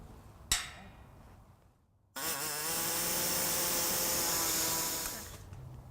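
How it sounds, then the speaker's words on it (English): An air saw cuts into the metal of a 2016 Ford Focus to enlarge a hole for a trailer-hitch carriage bolt, starting after a sharp tap and brief pause, then a loud, steady buzzing whine for about three seconds before stopping. "I'm going to use an air saw and we're just going to open this up a little bit to allow the bolt to be able to go through"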